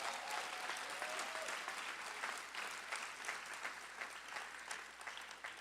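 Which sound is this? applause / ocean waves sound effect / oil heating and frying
applause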